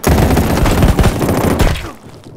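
Gunfire from a sniper rifle in the mobile shooter Battle Prime Mobile lands a headshot amid a dense, loud burst of overlapping shots and booms. The firing fills the moment, then cuts off sharply.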